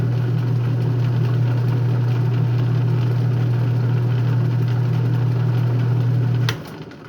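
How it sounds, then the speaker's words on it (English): An electric buffer spins a knit wheel against a shoe to finish the shine. The motor makes a steady, loud, low hum for about six seconds, then spins down and falls quiet. "I finished it off using the knit wheel on the buffer"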